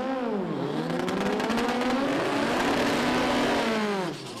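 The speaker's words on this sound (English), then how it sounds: "Good burnout there for Richard." Front-wheel-drive drag racing car doing a tyre burnout at a drag series event, a loud sustained engine roar with rising and falling revs and tyre screech, close and continuous.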